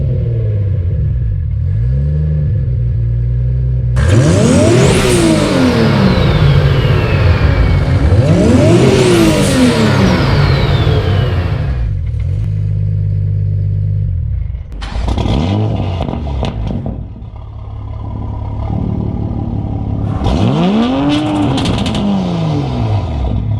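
Two modified Toyota Supras, a 750 hp manual MKIV with a 2JZ and a 600 hp automatic MKV with a B58, rev hard in turns, loud rising and falling engine sweeps broken by idle rumbles and short gaps.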